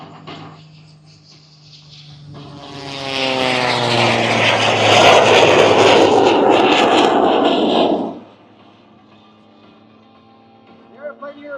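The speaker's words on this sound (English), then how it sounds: "This is the world's only flying jet Waco." A 1929 Waco biplane converted to jet power roars past at an air show, swelling from a distant whine to a loud rushing pass and then fading sharply, with a voice faintly at the end.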